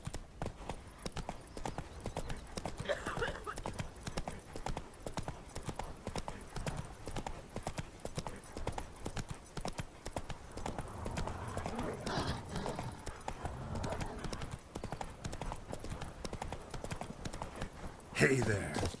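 Horse Roach's hooves clip-clop in a steady rhythm across The Witcher 3, with a brief whinny and mixed in-game background sound and a voice.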